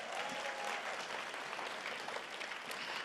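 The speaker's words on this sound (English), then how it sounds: "Let's give them a round of applause" Audience applause at a school-partnership luncheon event, a steady dense wash of clapping from a large crowd, moderately loud and sustained throughout without pause.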